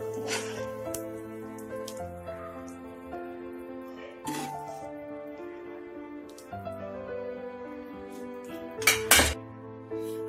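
Cooked melon curry is served into a bowl with a spoon, giving several close metallic clinks and knocks of utensil on dishes while someone talks over them.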